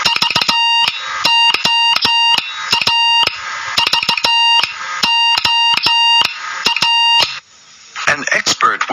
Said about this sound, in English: All of Mr. Marconi's radios communicated using Morse code.